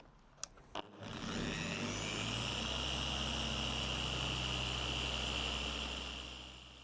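A car polishing machine works polish into paint at speed 4.5, starting after a couple of clicks and spinning up into a steady, loud whirring drone that holds evenly before easing off at the end.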